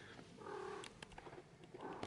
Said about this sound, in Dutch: Oh, wat ben je toch een mooie poes